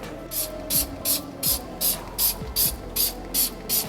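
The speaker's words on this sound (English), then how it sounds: "we'll then go straight on with the iron remover wheel cleaner over the whole wheel" Trigger sprayer misting Nanolex iron remover wheel cleaner onto a wet car wheel, about ten quick evenly spaced hissing bursts in a steady rhythm, close and fairly loud.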